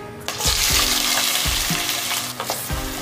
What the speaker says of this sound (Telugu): ఇవి బాగా వేగిన తర్వాత ఒక కప్పు ఉల్లిపాయ వేసుకుందాం